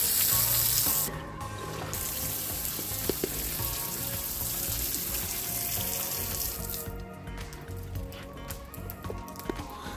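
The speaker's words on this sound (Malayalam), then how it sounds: "ഇവിടെ പൈപ്പ് തുറന്നു നോക്കട്ടോ" Water gushes from a newly opened tap on repaired household plumbing, a continuous hissing splash that stays steady after a louder start.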